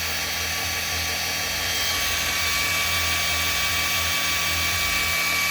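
An electric drill spins continuously at high speed on an engine oiling job, a steady piercing whine with a low rumble underneath, close and loud, no talking.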